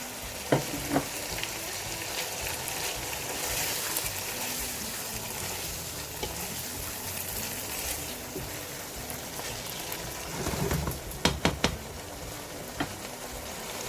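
Chopped ginger fries in a pan for aloo keema, a constant crackling sizzle with scattered spatula scrapes and a quick cluster of sharp clicks near the end, close with no speech.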